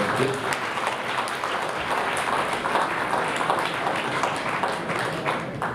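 Sustained applause from an audience at a Christmas carol concert fills the whole stretch, dense steady clapping from many hands with no break and no voices standing out.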